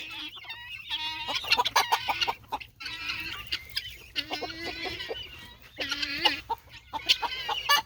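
Escaped guinea fowl calling near the yard in a repeated series of loud, harsh, raspy cackles and chattering cries, several bursts in close succession with no talk over them.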